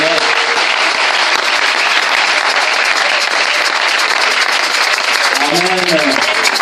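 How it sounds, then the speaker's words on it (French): Sustained applause from a church congregation at a worship service in Yaoundé, Cameroon, dense and steady throughout, with voices calling out over it and a sung or shouted exclamation near the end. "Applaudissons le Seigneur."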